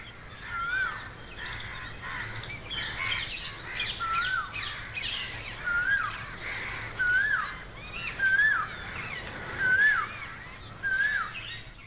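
Repeated high, rising peacock calls ring out every second or so, with assorted chirps and squawks from other birds around them in an open outdoor space.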